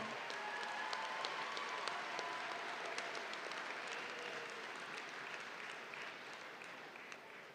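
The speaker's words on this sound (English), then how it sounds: "Give me a little raise of the hand and a clap for my alumni that's sitting in the stands right now" Spectators in the stands at a high school commencement clap continuously, a distant, even patter of many hands spread across a large venue, fairly quiet and without talk.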